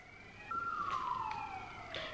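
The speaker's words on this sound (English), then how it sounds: "it's so strange to hear sirens around the house" A siren wails past outside a house at a distance, its tone sliding downward as it moves by, with faint background hum and no talking.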